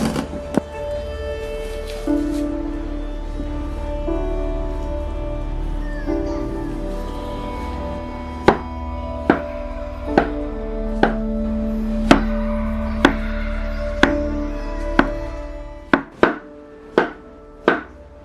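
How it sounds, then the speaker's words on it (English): A knife slices bananas into bite-sized medallions about a centimeter thick on a board, giving sharp, evenly spaced chops that grow more frequent toward the end over a low background hum. "we want to cut up these bananas into bite-sized medallions"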